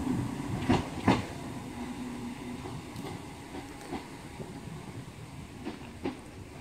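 Pendolino train waiting at Carstairs station on the West Coast Main Line, giving a steady low rumble and hiss with occasional clanks and clicks, fairly close and without talk.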